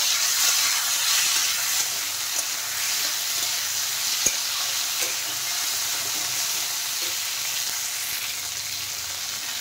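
Ginger, green chilli and raisins fry in a pan, giving a steady close sizzle with occasional stirring clicks and scrapes over nearly ten seconds.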